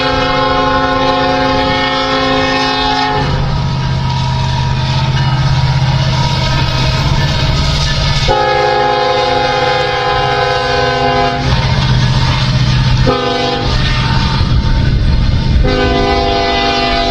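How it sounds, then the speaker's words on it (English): An eastbound Norfolk Southern stack train led by an SD70ACE locomotive passes on a blustery December day, its loud multi-tone horn blaring in repeated long blasts over rumbling engines and rolling wheels. "My first live catch on this blustery December day was this eastbound NS stack train led by SD70 Ace number"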